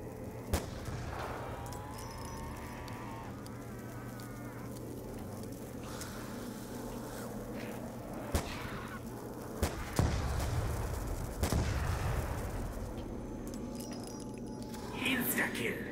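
Sharp gunshots from a video game shooter, a few isolated cracks spread over the stretch, with a busy game soundscape and talk throughout.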